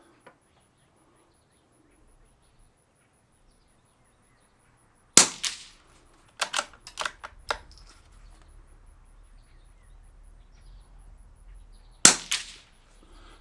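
Suppressed rimfire shots from a Lithgow LA101 rifle fitted with a Gemtech suppressor, firing Eley Tenex ammunition: a sharp crack near five seconds, a quick irregular cluster of reports around seven seconds, and a final shot near twelve seconds, with quiet gaps between.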